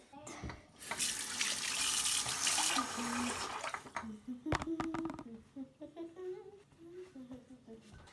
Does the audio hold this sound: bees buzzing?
no